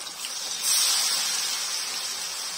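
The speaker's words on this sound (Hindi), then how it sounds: "सरसों के तेल में मैं फ्राई कर रही हूँ मछली।" Fish frying in mustard oil gives a steady, close, broad hiss that swells briefly near the start and then holds level, with no voices.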